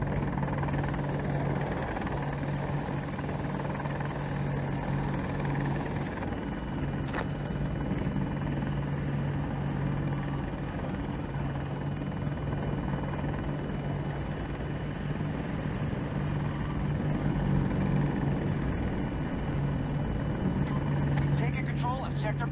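A helicopter in the Battlefield 2042 video game drones steadily throughout, a constant rotor and engine rumble with a brief sharp burst partway through, heard in a busy game soundscape.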